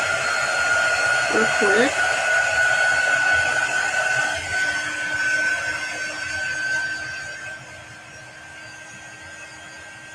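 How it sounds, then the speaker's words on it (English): A hair dryer runs with a steady airy whoosh and whine through the clip, fading somewhat toward the end, while a woman chats over it during a live craft session. "Just plug in my dryer."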